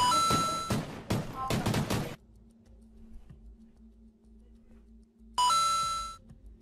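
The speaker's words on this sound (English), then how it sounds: "the doorbell ringing like crazy, again" A doorbell chimes over and over in rapid bursts, loud and close, then stops for a few seconds before ringing again.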